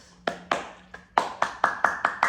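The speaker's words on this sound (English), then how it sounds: "So clapping" Bare hands clapping in a yoga and breathwork session, about eight sharp claps in a slightly uneven rhythm, close and clear with no talking.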